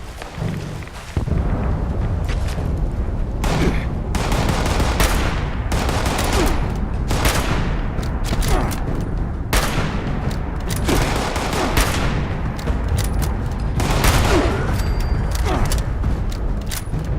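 Sustained automatic weapon fire in Fallout 76 rattles loudly and almost continuously, bursts overlapping with heavy booms throughout.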